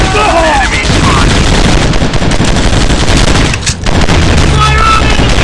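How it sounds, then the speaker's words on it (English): Machine-gun fire in a shooting video game, a loud, continuous automatic burst that rattles on almost without pause and dips only briefly midway. "I'm shooting these fools up!"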